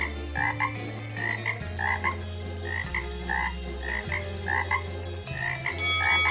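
Repeated frog croaks, a steady rhythmic chorus of several frogs calling over a low droning backdrop, loud and close throughout.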